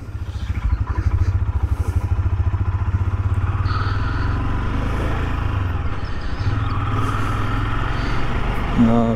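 A Royal Enfield motorcycle rides on an open road between Perth and Geraldton in Australia, its engine thumping in a steady low rumble close to the microphone with some road clatter and wind throughout.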